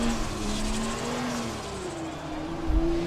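An F2 race car in a Monaco video game holds a loud, steady engine drone that rises and falls slightly in pitch, with a brief low thump near the end.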